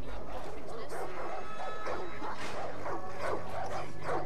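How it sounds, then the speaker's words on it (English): Several dogs in the video game Far Cry 5 give excited yips, short barks and whimpers in quick succession, up close over steady game background noise. "Happy puppies."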